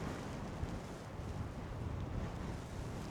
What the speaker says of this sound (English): It's quite blowy. It's been gusting about 20 mile an hour.